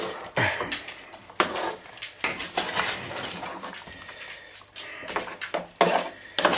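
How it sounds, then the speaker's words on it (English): Stirring a pot of staff curry sauce with tomatoes breaking down, a utensil scraping and clinking against the pot in repeated close strokes over a soft sizzle, with no one talking. "not touched this because I wanted you to see it before I stirred it"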